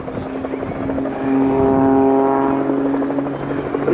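A Pitts aerobatic biplane performs a well-practised display routine at the RAF Cosford airshow, its engine droning steadily and swelling louder mid-pass with a rising and falling pitch before easing off again.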